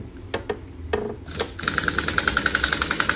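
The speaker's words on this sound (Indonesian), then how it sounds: "Di mur pengencangan kopling ganda sama kopling manual kita kencangkan menggunakan kunci impact juga" An impact wrench rattles in a fast burst of rapid hammering blows, tightening the clutch nut on a Honda Astrea Grand / Supra X motorcycle engine being assembled; a few sharp metallic clanks come first, then the buzzing impacts run on.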